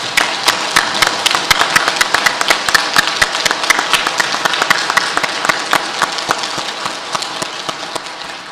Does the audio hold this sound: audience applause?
yes